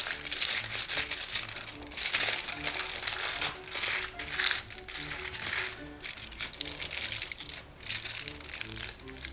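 Purple aluminium foil crinkles and crumples loudly up close as its edges are folded in around a chocolate bar, in irregular crackling bursts with short lulls.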